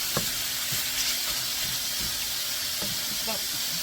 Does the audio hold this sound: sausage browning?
yes